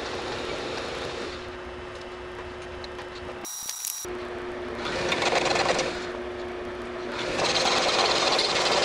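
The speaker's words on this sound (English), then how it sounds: "I've got this piece of stainless, so I need to turn this down and make a piece to extend this" A metal lathe turns down a piece of stainless steel, a steady mechanical whir with a faint running tone, swelling louder in two passes as the tool cuts, with a brief dropout midway.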